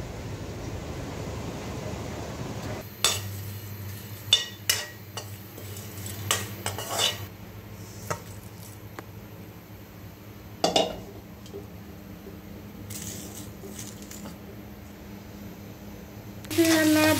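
Cooking pot and metal utensils clinking on a home stove as a midday meal of spiced rice and lentils gets underway, with scattered sharp clanks and scrapes over a steady low hum, several close knocks, and a voice talking at times.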